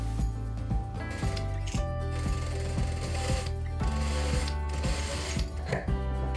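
A sewing machine stitches dress collar pieces together, its steady mechanical ticking and whirring running continuously and close by without pause.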